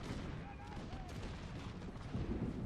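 Musket volleys crackle through a battle in Napoleon: Total War, a dense, continuous rattle of gunfire with low rumbling layered beneath, steady throughout and rising slightly near the end.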